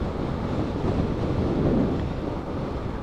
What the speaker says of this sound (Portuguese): Entrando um ventinho frio. Ventinho frio não,